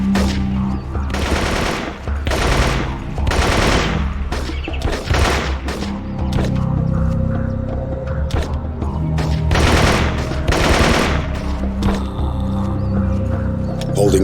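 Gunfire in the jungle shooter Marine Sharpshooter 2: Jungle Warfare, with rapid bursts and volleys of shots repeating loudly over a steady background of game noise and music.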